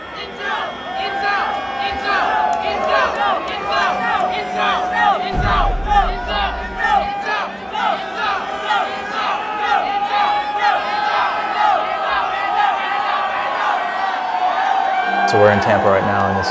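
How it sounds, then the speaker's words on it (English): Dense roar of a sold-out concert crowd at the first Tampa stop of a tour, steady and loud throughout, with voices talking close over the cheering. "It's a pretty good sized crowd tonight, and I think it's sold out."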